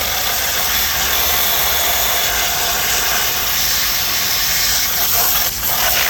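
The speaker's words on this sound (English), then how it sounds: "to speed up the actual drying process, we are using Datavac to clean it up a bit" A DataVac electric air duster blows air over gaming PC parts to dry them. A loud, steady, close hiss runs unbroken and dips briefly near the end.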